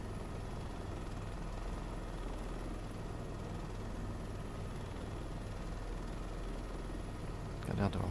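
An Airbus AS350 A-Star helicopter in flight, a loud, constant rotor and engine drone heard from inside, steady throughout with a brief knock near the end.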